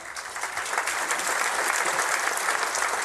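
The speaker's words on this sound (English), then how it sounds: "You're going to have to clap again" A large audience at an annual business meeting applauds continuously, a dense, even roar of clapping that holds throughout with no speech over it.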